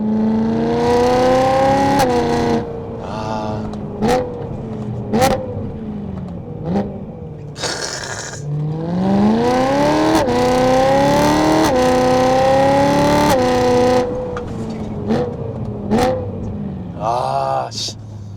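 A BMW E92 M3 with a full custom exhaust system revs loudly and close by in repeated rising and falling bursts, with sharp pops between the pulls.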